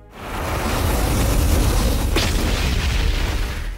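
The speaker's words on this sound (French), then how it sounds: "la Terre explose sous la chaleur insupportable du soleil" A film sound effect of the Earth exploding: a loud, full roaring blast that swells in quickly and holds for several seconds before cutting off abruptly.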